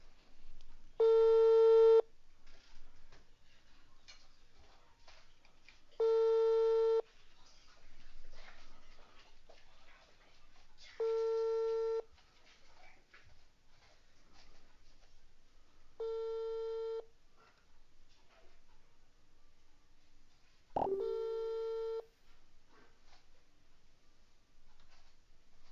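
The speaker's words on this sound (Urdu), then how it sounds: "تو یہ میں دوبارہ کال کر رہا ہوں۔" Outgoing telephone call tone during a repeat call: five evenly spaced steady beeps, each about a second long, about five seconds apart, clear and prominent over faint background noise.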